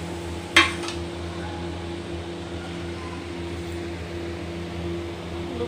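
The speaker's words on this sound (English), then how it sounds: "Open the lid carefully." The lid of a cooking pan steaming eggless soft buns on a stovetop, with no cooker or oven, lifts off with a single brief metallic clink, followed by a steady background hum.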